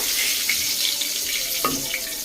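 Bay leaves hit hot oil already used for frying potatoes, a constant close hiss of sizzling with a few faint crackles, no voices.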